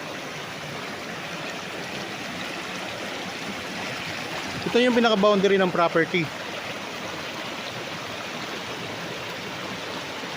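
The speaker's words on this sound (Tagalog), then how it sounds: "So dinignan nyo lang pong lagaslas ng tubig." River water flows steadily alongside a farm property in Liliw, Laguna, a constant broadband rush running throughout, with someone speaking briefly over it partway through.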